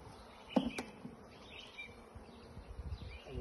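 Honeybees from a shook swarm hum softly around their hive, a faint, steady buzz running throughout with a couple of brief louder knocks or bumps near the start.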